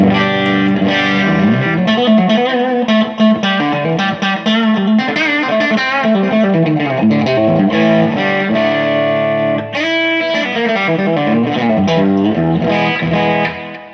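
Loud, distorted electric guitar chords played through two amps at once, both boosted, ring out continuously with a wide, stereo reverberant wash, sustained and dense for the whole stretch.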